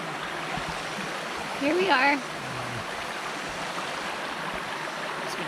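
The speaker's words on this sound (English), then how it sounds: "We're sitting now on the rocks down here by the river" A river in Virginia rushes over rocks in a steady, full broadband wash that fills the whole scene close by, while a voice speaks briefly over it.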